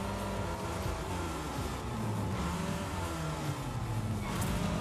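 A car engine roars in the Rocket Racing video game as another racer passes alongside: a steady, fairly faint, dense engine drone with no talking.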